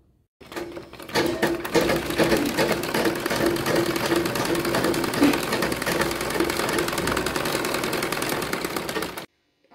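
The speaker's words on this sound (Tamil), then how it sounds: "இப்போ ஸ்டிச் பண்ண ஆரம்பிச்சிடலாம்." A sewing machine stitches an Anarkali chudithar, its rapid needle clatter running steadily for about eight seconds, starting and stopping abruptly.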